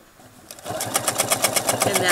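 A sewing machine quilts with a Clarity ruler foot, starting from quiet and settling into a fast, even rhythmic stitching patter close by.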